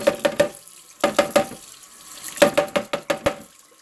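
A kitchen tap runs in short repeated bursts to wet the back of a spoon, water splashing in clusters of three or four quick spurts with brief pauses between, close and clear.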